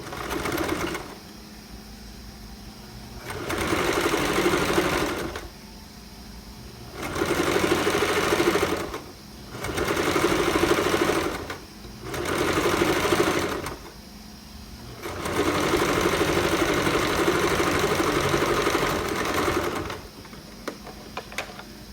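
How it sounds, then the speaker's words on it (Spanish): Close and loud, a sewing machine runs a half-centimetre seam along a sport collar in six bursts of stitching with short quiet gaps between them, ending in one long run. "voy a coser aquí a medio centímetro"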